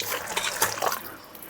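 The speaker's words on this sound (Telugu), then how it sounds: "కొంచెం వాటర్ వేస్తున్నాం." Water is poured into a bowl of soaked tamarind, a short, close splashing trickle lasting barely over a second.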